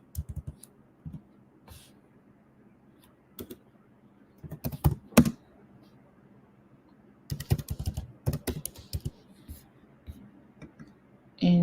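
Keys clatter on a computer keyboard in short, close, quiet bursts of rapid clicks separated by pauses, with soft speech in between.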